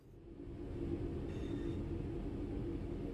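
A Class 323 electric train rolls into Wolverhampton station in Train Sim World 6, giving a steady, low rumble of wheels and motors that holds even throughout, with a faint whine in the middle.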